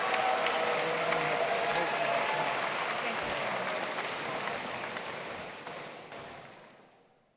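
Big round of applause from the crowd at the 2018 Science Olympiad National Tournament awards ceremony, dense sustained clapping that slowly thins and fades out over several seconds.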